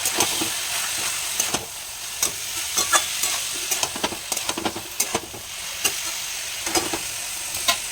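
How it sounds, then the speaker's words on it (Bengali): Boiled banana flower is stir-fried in spice masala in a pan, a constant close sizzle broken by frequent sharp scraping strokes of a spatula in an irregular rhythm, with no talking. "এই সিদ্ধ করে রাখা মোচাটা। এটা দিয়ে ভালো করে কষিয়ে নেবো।"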